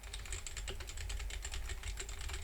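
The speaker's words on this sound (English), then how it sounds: "that's what it sounds like when it comes to the typing" Rapid typing on a keyboard with pink magnetic key switches, a dense stream of soft clacks picked up faintly at a distance with no talking.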